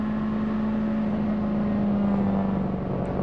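A Nissan prototype race car at the 1997 Le Mans 24 Hours, heard as a steady engine drone with a strong low hum that holds evenly throughout, without talk.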